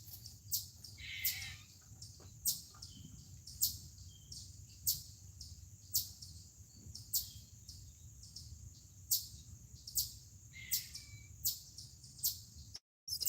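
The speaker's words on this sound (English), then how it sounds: "Take it down a notch, birds. They literally just interrupted me." Birds chirp outdoors in short, sharp calls repeating irregularly throughout, moderately faint over a low background hum.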